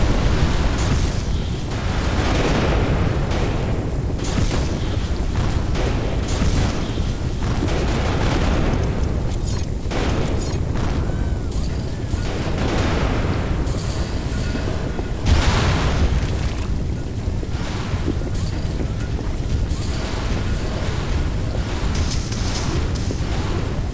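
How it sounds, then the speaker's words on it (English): A tornado tears through a base in The Riftbreaker: a dense, continuous roar of rumbling wind and crashing debris with repeated booming bursts, loud and sustained throughout. "A tornado is demolishing our base!"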